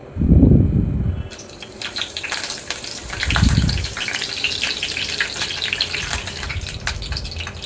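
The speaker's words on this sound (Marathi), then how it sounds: "तेल गरम झाल्यावर ह्याच्यामध्ये आपण कढीपत्ता टाकून घेऊया" Curry leaves dropped into hot oil in a pan for a mushroom gravy, giving a loud bursting gush of sizzling that settles into a steady, bright crackling fry.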